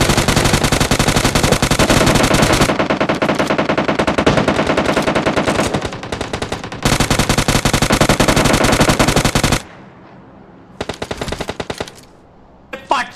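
Automatic weapon fire from the battle royale game BGMI during a bridge camp fight, long loud rapid bursts broken by short pauses, then quieter scattered shots toward the end, with brief speech.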